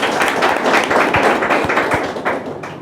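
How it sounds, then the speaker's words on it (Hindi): A gathered crowd at a Bhim Army press conference in Bettiah claps to welcome a guest, a loud burst of many hands with a few sharper thumps standing out, tapering slightly toward the end. "मैं चाहता हूँ कि इनके लिए एक जोरदार ताली से स्वागत करें।"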